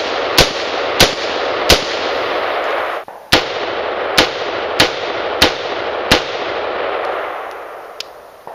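Shots ring out from a Serbu AR pistol built on an AR lower and fitted with a red dot sight, about nine loud, sharp reports at a steady pace, each followed by a rushing echo, with no one talking.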